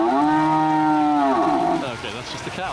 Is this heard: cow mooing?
yes